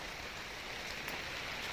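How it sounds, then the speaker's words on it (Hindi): Heavy monsoon rain pours steadily, a soft even hiss with no break, faint in level and with no voices over it. "ये देखिए बहुत तेज़ बारिश हो रही है"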